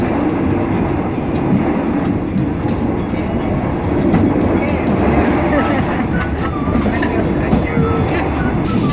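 A sleeper train to Chiang Mai runs on its rails with a loud, continuous rumble and faint clicking of the wheels, with a voice talking faintly beneath the noise.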